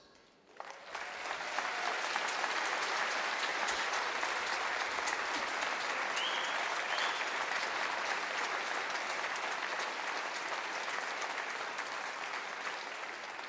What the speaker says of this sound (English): I think they deserve a massive round of applause.